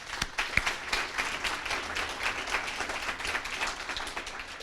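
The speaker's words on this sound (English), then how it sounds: "that's really something for you all to clap to for yourselves" At a gift announcement for the Sinclair School of Nursing, the audience claps for itself: a close, dense patter of many hands clapping continuously at moderate loudness for several seconds.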